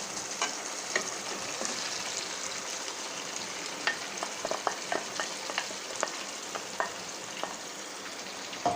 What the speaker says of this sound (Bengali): এবার আমি যে মাংসটা মেখে রেখেছিলাম সেই মাংসটা দিয়ে দেব।